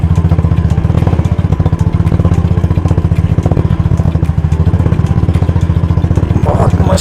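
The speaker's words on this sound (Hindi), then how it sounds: "आप सोच सकते हो अगर 350 बुलेट ही यहाँ पे रोने लग पड़ा है" A Royal Enfield Bullet 350 motorcycle labours over rough off-road terrain, its single-cylinder engine thumping in a loud, steady, rapid beat close by, with clattering from the rough track throughout.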